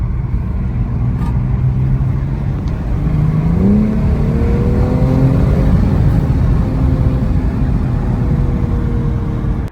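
A BMW M240i accelerating hard, its engine note climbing and holding a loud, close, steady roar throughout with a rising pitch sweep partway through.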